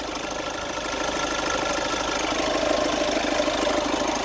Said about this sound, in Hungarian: a dízel motorunk.